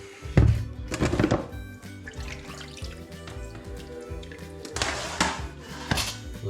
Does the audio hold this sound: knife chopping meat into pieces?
yes